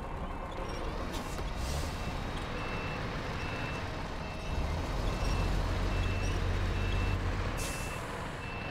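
Heavy truck reversing with a trailer in the Snowrunner video game, steady reversing beeps repeating over a low engine drone, with a hiss of air brakes near the end.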